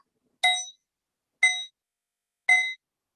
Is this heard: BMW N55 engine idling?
no